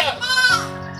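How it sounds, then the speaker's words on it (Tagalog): A goat on a farm bleats once in a short, wavering cry, with a person's voice overlapping it. "Ganda na kambing yan."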